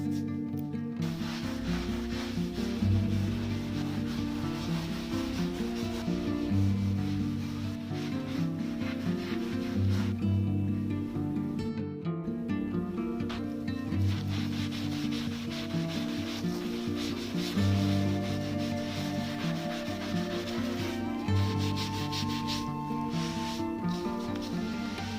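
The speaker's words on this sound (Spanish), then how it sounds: "pruebo primero frotando con un cepillo de dientes y luego con la esponja" Toothbrush and then sponge scrubbing scratches on a painted interior wall, a steady continuous rubbing that carries on without pause at close range, with no talking.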